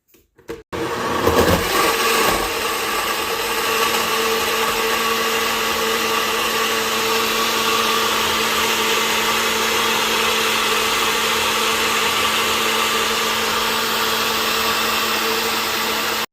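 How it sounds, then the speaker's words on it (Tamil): An electric blender whirs steadily for about fifteen seconds, churning watermelon lassi with ice cubes in one loud, constant motor drone after a few brief starting knocks. "இப்போ இது எல்லாத்தையும் நாம் நல்லா பிளெண்ட் பண்ணிட்டோம்னா நம்ம வாட்டர்மெலான் லஸ்ஸி மினிட்ஸில் ரெடி ஆகிடும்"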